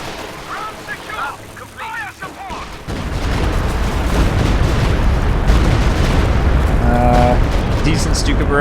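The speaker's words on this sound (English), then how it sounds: "Decent Stuka barrage right there." Stuka dive-bomber barrage in a World War II strategy game: a rumbling wall of blasts swells after the first few seconds and stays loud and dense, with game voices and effects chattering over it.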